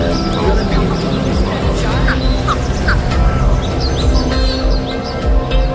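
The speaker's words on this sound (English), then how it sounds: "Got those Canadian geese happening." Canada geese honking and calling outdoors, several short calls over a steady background of wind or rumble.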